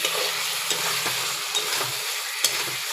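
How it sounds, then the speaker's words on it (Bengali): Taro leaves (kochu shak) stirred in a pan, a continuous frying sizzle with soft scraping strokes of the spatula repeating every half second or so, close and steady. "নেড়ে নেব"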